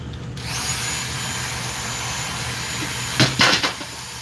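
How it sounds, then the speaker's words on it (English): A Dremel rotary tool whines steadily at high speed while cutting a 1x4 lid for airflow, close and continuous, with a few harsher bursts near the end as it bites into the material. "Dremel"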